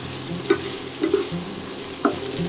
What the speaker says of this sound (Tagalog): Add the okra and stir fry for a few minutes.